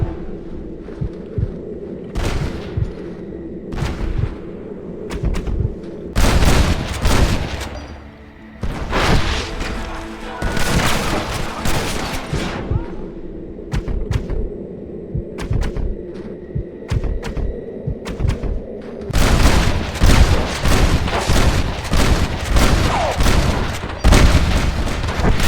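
Gunfire from a shootout in Red Dead Redemption on Xbox One: repeated loud bursts of shots and booming blasts come in dense clusters over a rumbling background, with brief lulls between volleys.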